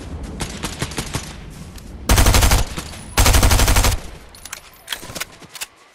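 Video game gunfire rings out in two long, loud automatic bursts, with scattered single shots before and after, close and sharp.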